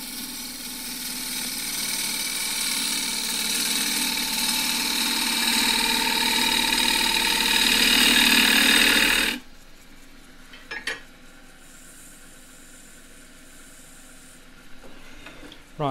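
A wood lathe turning a cross-grain box with a gouge, a loud steady whirring cut for several seconds that stops abruptly, followed by quiet workshop handling sounds and a few taps.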